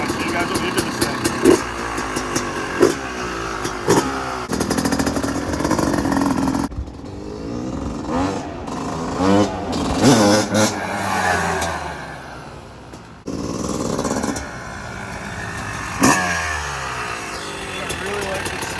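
A Yamaha YZ250 two-stroke engine in a three-wheeler trike conversion revs and revs again while being ridden, with loud rises and drops in pitch as it moves nearer and farther, then settles, with brief talk over it.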